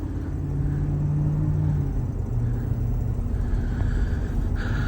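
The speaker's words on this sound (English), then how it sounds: "So we definitely have a persistent manifold noise" A 2008 Ford F-350 pickup engine idles with a steady low rumble and faint ticking from an exhaust manifold leak, holding even throughout with no talk.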